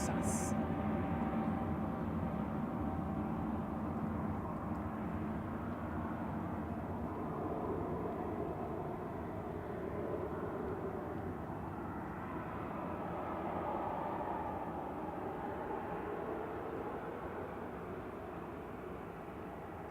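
An SAS Airbus A320neo departs Manchester Airport for Oslo, its engines giving a steady, broad roar that swells slightly and holds for the whole stretch, with faint speech underneath.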